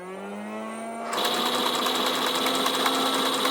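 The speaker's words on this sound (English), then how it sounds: "This trigger activates the motor for firing. It is extremely loud" A small motor in a Hasbro Nerf Aliens M41A Pulse Rifle toy blaster whirs up, then a loud, buzzing mechanical drone takes over with a rapid rattling pulse, steady and close.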